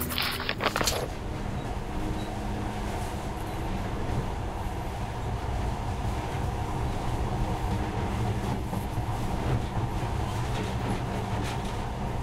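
Monorail train from the video game Metro Last Light running steadily, a continuous low rumbling roll with faint rhythmic rail clatter, loud and close throughout with no talk.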